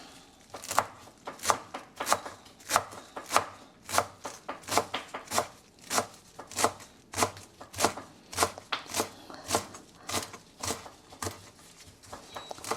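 Steady knife chopping of onion on a cutting board, dozens of crisp, evenly spaced cuts in a brisk rhythm, close and clear with no talking.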